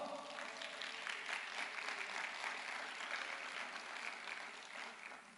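A church congregation claps together in praise, a steady, fairly faint wash of many hands sustained throughout with no clear talk over it.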